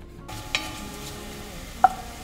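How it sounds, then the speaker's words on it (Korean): Onion and garlic stir-frying in olive oil, a soft steady sizzle with two brief sharp clicks of a utensil against the pan, close and quiet, no talk. "양파랑 마늘을 볶다가"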